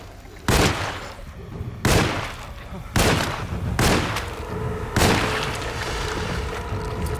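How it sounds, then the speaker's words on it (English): Revolver shots in Alone in the Dark, five loud sharp blasts about a second apart, each with a booming reverberant tail over a low ambient drone. "Fucking hell, it took 6 shots to down that thing."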